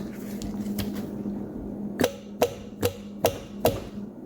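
Sharp, evenly spaced taps on valves in a 2004 Acura TL cylinder head on a bench, five distinct metallic knocks struck about every half second after a quieter stretch of shop noise.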